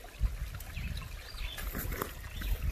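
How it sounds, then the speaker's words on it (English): A small double waterfall in a creek on an outdoor hike gives a steady, fairly close splashing and trickling rush that carries on without a break, with no voices. "It's like a double waterfall."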